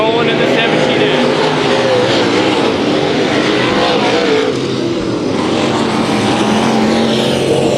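IMCA modified race cars roaring through a dirt-track heat race at Kings Speedway: a loud, continuous wall of engine noise from the pack, with an announcer talking over it.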